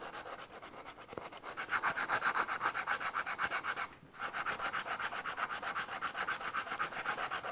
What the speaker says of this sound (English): So this is just a little block of wood with a little bit of sandpaper.